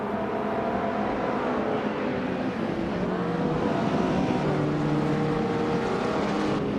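Classic 1983 Porsche 911 S racing in a video game, its engine roaring loudly and continuously with rising and falling harmonics as it accelerates and shifts, no talk.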